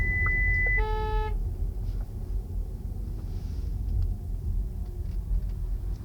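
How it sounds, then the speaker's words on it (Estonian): Škoda Enyaq iV driver alert system sounding a short burst of rapid electronic warning beeps, a steady tone followed by a quick stack of repeated chimes, over low road rumble inside the moving car. "Andis helisignaaliga märku."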